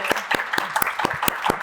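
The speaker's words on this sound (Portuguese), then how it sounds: "receberem com aplausos calorosos Raquel Dall'Acqua." Warm audience applause at a book launch, a burst of sharp, evenly spaced claps ringing out close and clear with no talk over them.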